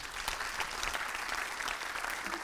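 Conference audience clapping for a speaker, a steady, moderately distant wash of many hands lasting throughout, faint overall with no talk over it.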